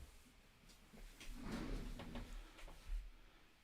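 A wardrobe door opening indoors with soft wooden knocks and a brief creaky slide, fairly quiet and near, with no talking.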